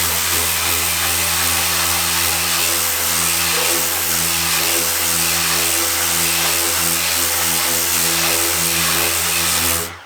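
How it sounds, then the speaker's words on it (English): A random orbit sander fitted with 80 grit paper works a car body panel, giving a loud, steady, close motor whine with a continuous rough hum that runs unbroken for the whole stretch before cutting off at the end. "So 80 grit on this one as well, just to show how it works. It does, these are both random orbits"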